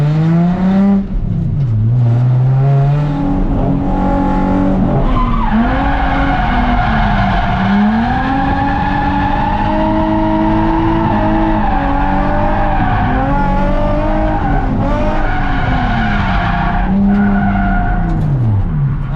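A drift car slides around Ebisu Circuit's North Course, tires squealing loudly and continuously with sweeping pitch bends as the engine revs hard, close and dominant throughout.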